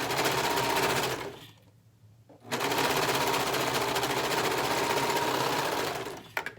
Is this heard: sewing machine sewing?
yes